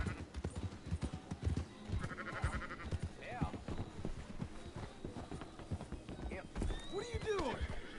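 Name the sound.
horse in video game Red Dead Redemption 2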